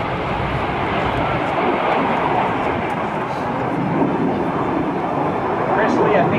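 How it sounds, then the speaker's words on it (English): A vintage F-86 Sabre jet flying at a military air show open house, its broad, steady roar heard from a distance as it passes, with no clear voices over it. "he's flying a variety of vintage warbirds, among them being the P-51 Mustang, the Corsair, and also this F-86 Sabre jet."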